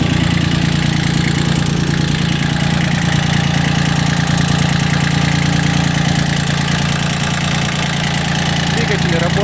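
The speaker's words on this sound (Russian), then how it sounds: "Двигатель работает ровно" Japanese ISEKI TX1410 three-cylinder mini tractor engine idling evenly, a loud, close, continuous low rumble with a steady mechanical throb and no change in speed.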